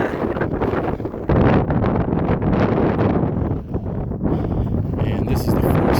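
Cold wind on the summit of Mount Elbert in Colorado, 14,433 feet up, buffeting the microphone as a loud, continuous roar with gusty surges and no talking.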